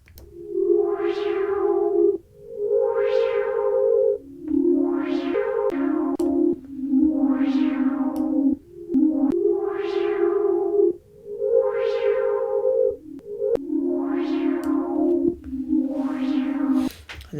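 A synth pad in Serum with chorus added, a series of loud sustained chords, each swelling and holding for about two seconds before the next, with a wide, shimmering tone and no talking.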